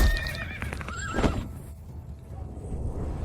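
A horse whinnies loudly with a rising, wavering neigh, joined by rough snorting and thudding hooves, with steady background noise throughout.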